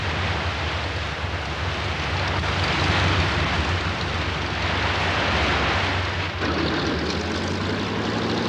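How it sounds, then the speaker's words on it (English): A Catalina flying boat drones steadily overhead as it flies low over waterfalls, its loud, continuous propeller engine roar blending with the rushing wash of falling water throughout, with no voices. "the Catalina is brought to a safe landing in calmer waters below the falls"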